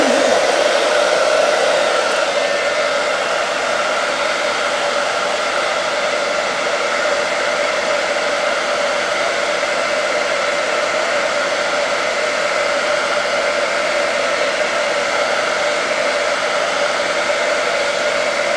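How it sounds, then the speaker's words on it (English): Hair dryer blowing hot air over a hat before it is pressed, a loud, steady whooshing whir held close and unbroken for the whole stretch. "But I'm going to do my hair dryer, so one moment."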